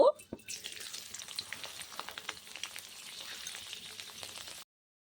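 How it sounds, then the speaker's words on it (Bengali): Cardamom, cinnamon, cloves and chopped garlic hit hot oil for a chicken stew, giving a steady close crackling sizzle with a sharp burst at the start, then cut off abruptly. "লবঙ্গ নিয়েছি এটা এবার ফোড়নে দিয়ে দেব রসুন কুচি"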